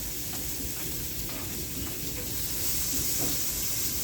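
Jamaican ackee and corned beef sizzle and fry steadily in a pot, a continuous close, moderately loud hiss with faint stirring scrapes throughout.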